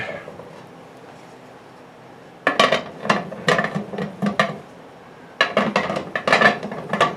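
A heavy metal pressure canner lid is set on and fitted, producing clustered metallic clanks, scrapes and ratcheting clicks in two bursts separated by a quiet pause, close and fairly loud.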